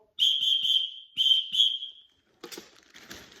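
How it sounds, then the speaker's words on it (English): A shrill signal whistle blown in quick short blasts, a pause, then two more blasts with a trailing note, followed by faint rustling. "Signaling whistle."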